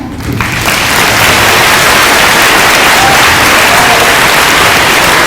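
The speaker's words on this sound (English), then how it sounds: "now it's time to clap" A large crowd at an elementary school Veterans Day assembly applauds loudly and continuously, a dense wash of clapping that swells within the first second and holds steady.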